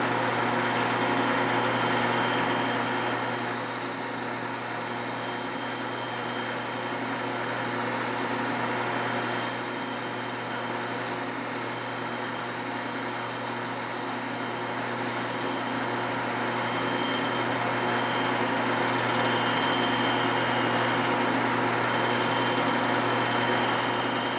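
A 2017 Milwaukee-Eight motorcycle cylinder head's welded gasket surface is milled, a steady machine whine with a constant hum that runs throughout at moderate loudness, with no talk.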